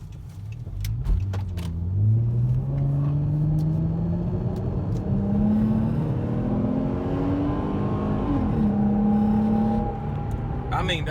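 A 2012 Dodge Charger with a five-speed automatic and an aftermarket throttle controller in Sport mode accelerates hard, its engine note rising steadily through the revs with a brief dip at a shift, loud and close, with faint talk underneath.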